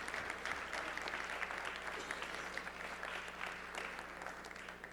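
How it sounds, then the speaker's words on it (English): A conference audience claps for first-time attendees at the opening of a keynote event, a full, even round of applause that carries on without a break and tails off a little at the close. "Give them a round of applause."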